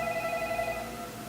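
A telephone rings with a steady electronic trill, fairly faint and continuous, with no voices.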